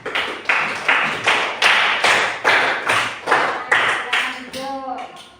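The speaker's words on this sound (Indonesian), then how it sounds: "Tepuk tangan untuk kelompok B." Group clapping for a classroom presentation group, about ten loud, evenly spaced claps in unison with a rhythmic beat, followed by a brief voice at the end.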